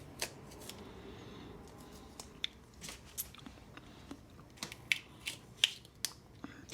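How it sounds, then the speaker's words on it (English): Red tape peeled off a battery during a Pathfinder hybrid build, a series of close, crisp tearing and crinkling ticks scattered irregularly over several seconds, quiet overall. "Take this red tape off of there."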